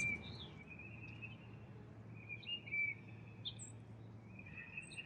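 Faint, scattered bird chirps and short calls outdoors over a steady low outdoor hum, with no voices.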